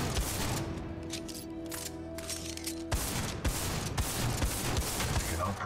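A shotgun pistol fires in the video game Titanfall 2, bursts of sharp shots over a busy game soundscape with a sustained tonal drone in the first half, dense crackling impacts following.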